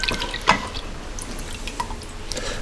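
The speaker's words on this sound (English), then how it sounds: "dipping liquid into a bowl" Hot au jus dipping liquid for roast beef sandwiches is poured into a bowl, giving soft splashing and drips with one sharper splash near the start, close up and alone.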